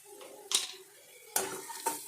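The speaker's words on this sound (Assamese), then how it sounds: "এনেকৈ লাৰি দিম।" Turmeric, cumin and salt being stirred into onions in a pan: soft low sizzle under three distinct spoon scrapes against the metal, faint and close.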